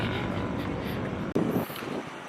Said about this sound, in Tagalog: Hindi ko alam kung naririnig ninyo yung hangin.